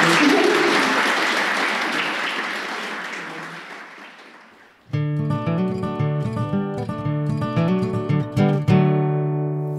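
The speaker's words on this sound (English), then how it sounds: "round of applause" Applause from a conference audience fills the first half, gradually fading, then gives way abruptly to tonal electronic music.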